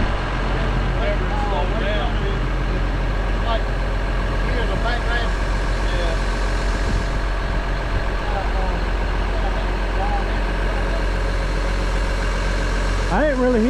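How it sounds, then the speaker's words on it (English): A John Deere 750 dozer idles with a steady low engine drone and a suspected gear whine from the planetary, while people talk nearby over the running engine. "It kind of sounds like gears whining. In the planetary?"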